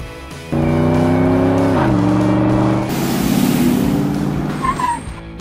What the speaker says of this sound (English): Full-size car.